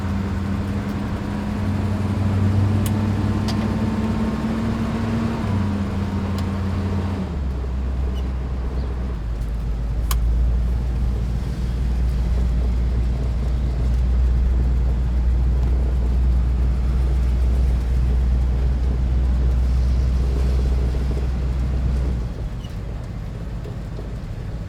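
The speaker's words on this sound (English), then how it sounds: "it's a great day in Phoenix for driving a vintage motorhome." A 1973 GMC Canyon Lands 26-foot vintage motorhome drives on a Phoenix road, its low engine drone and road rumble steady and loud inside the cabin, shifting pitch once partway through as if changing gear.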